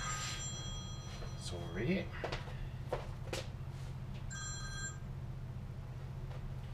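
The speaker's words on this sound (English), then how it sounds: "my phone is ringing" A mobile phone rings in a home kitchen while a pan heats on the stove, its repeating tone sitting at moderate level under a steady background hum, with a person talking briefly over it.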